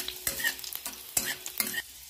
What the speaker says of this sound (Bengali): এবার এর মধ্যে আমি কাঁচা লঙ্কাটা শুকনো লঙ্কাটা দিয়ে দেবো, ভালো করে নেড়ে চেড়ে ভেজে নেব।